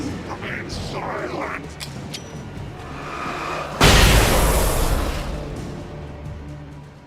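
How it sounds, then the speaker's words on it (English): A flashbang detonates in the Alan Wake video game: one sudden, loud burst that slowly fades away, preceded by quieter game sounds and voices. "Press RB to throw a flashbang"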